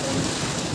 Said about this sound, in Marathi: खूपच जोराचा पाऊस सुरू झालेला आहे